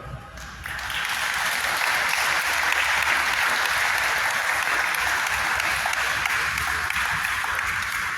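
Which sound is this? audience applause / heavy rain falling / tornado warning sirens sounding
audience applause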